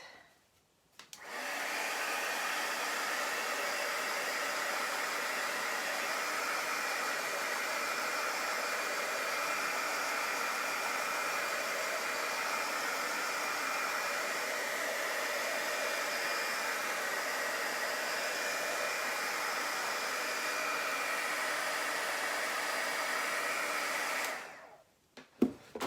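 Hair dryer blowing steadily for about twenty-four seconds to dry chalk paste on a silk screen, a loud, constant rushing hiss that switches on and off at either end, with no talking.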